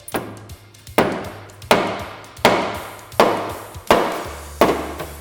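A rubber mallet strikes a Can-Am Commander A-arm to knock it off the knuckle. Six or seven solid, evenly spaced thuds come about once per second, each with a short metallic ring, loud and close.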